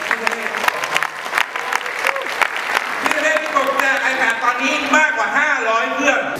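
An audience applauding at a presentation, dense sustained clapping that builds in the latter half while someone speaks over it through a microphone.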